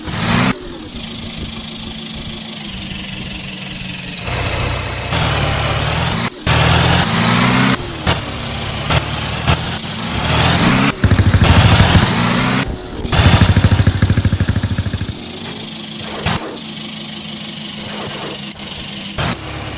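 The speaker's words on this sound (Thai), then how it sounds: "มาลองอัตราเร่งกันว่าเป็นยังไงนะ" A Roblox video game car engine revs and accelerates through repeated gear shifts, each rise in pitch cutting off before the next, loud and close with brief idling gaps.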